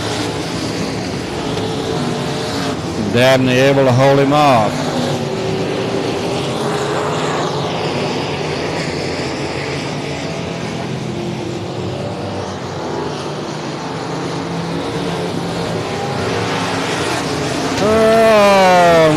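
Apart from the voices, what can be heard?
dwarf cars racing at Heart O' Texas Speedway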